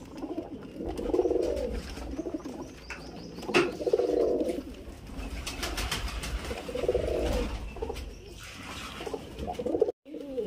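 Giribaz pigeons coo in soft, repeated rolling phrases, several bursts spaced a few seconds apart, close by with light chirps and rustling between them.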